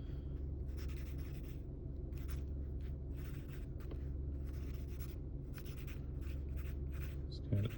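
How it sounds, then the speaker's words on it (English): A pen scratches across paper resting on someone's lap, in short irregular bursts of strokes, close and quiet over a steady low background hum. "It's kind of tricky to write on my lap"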